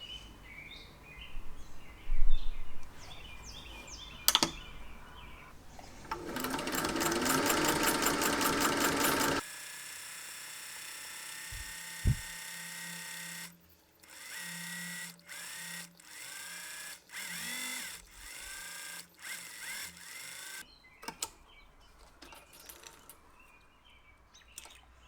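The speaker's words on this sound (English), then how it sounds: "I'm going to top stitch the outer edge of the brim" Sewing machine top stitching the outer edge of a fabric sun hat brim, running in several bursts of steady rapid whirring and stitching separated by short pauses and small handling clicks.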